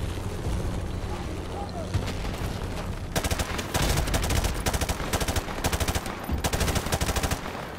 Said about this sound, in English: Mortar fire! Incoming!